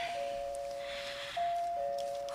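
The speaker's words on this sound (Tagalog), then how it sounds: "Mo-doorbell na ko." An electronic doorbell tone sounds as a steady beep, broken briefly partway through, fairly faint over a hiss of background noise.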